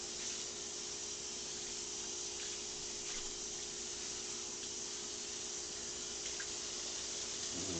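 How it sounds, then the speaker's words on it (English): Hot tap water runs steadily into a kitchen sink as a cutting board used for raw pork is washed with soap, a continuous close rushing stream with faint clinks and no talk. "They're using soap and hot water after cutting pork on this cutting board."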